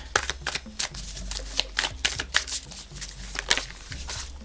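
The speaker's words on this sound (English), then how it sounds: "may I have some cards?" Tarot cards are shuffled by hand in a string of quick, papery riffles and slaps, close and fairly loud, arriving in uneven bursts over a faint low hum.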